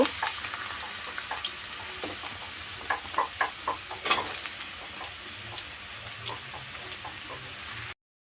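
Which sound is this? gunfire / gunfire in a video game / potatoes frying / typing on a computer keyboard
potatoes frying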